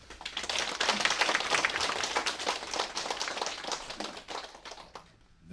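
Warm applause from a gathered crowd at a Gangneung election campaign office opening, greeting candidate Bae Seon-sik with steady, dense clapping that swells early and thins toward the end.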